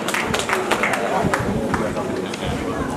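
Applause at a church fundraiser, dense and steady hand clapping blended with crowd noise and chatter throughout, close and loud.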